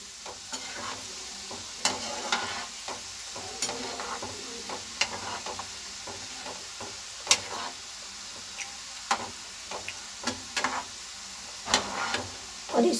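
Besan-coated masala peanut pakoras frying in oil on a slow flame, a soft continuous sizzle with scattered crackles and light clinks of a spoon, quiet and close with no speech.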